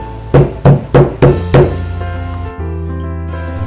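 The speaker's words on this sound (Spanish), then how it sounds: "Al llegar, golpeó la puerta para ver si estaba la abuelita." Five loud, evenly spaced knocks on a door in a Little Red Riding Hood story effect, each a close, hollow rap, followed by a sustained low tone with no knocking.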